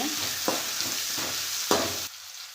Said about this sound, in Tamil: வெங்காயம் சேர்த்துக்கலாம் வெங்காயத்தை வந்து வதக்கி விட்டுக்கலாங்க